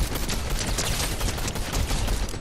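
Heavy-recoil gun firing in a video game, a dense continuous burst of loud, rapid shots packed tightly together with no pauses, close and dominant, no talk over it.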